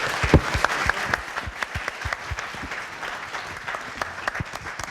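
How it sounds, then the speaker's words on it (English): Steady applause from an audience thanking panelists at the close of a community health panel in Central Minnesota, many hands clapping in a dense, continuous patter for several seconds with no talk over it. "Give a round of applause to our panelists."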